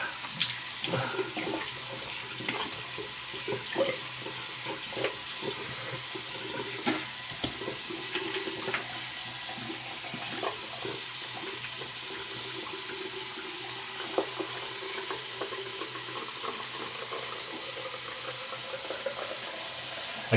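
Cold water running steadily from a bathroom tap into a sink during a shave, a continuous close hiss and splash with small clinks and knocks scattered through it, with no talking.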